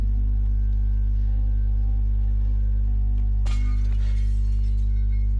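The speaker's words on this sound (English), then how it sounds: "But the idea for this section is that you're going over to this pot and smashing it." A clay pot smashes in the Little Nightmares video game, one sharp shattering crash with scattering debris over a constant low ambient drone, and no voices.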